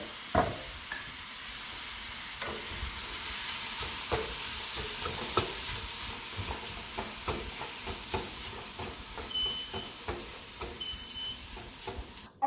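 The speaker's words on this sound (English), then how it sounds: "we're going to cook until the onions become translucent" Onions and garlic sautéing in a pan give a quiet, steady sizzle with scattered soft clicks of stirring, and a couple of faint electronic beeps near the end.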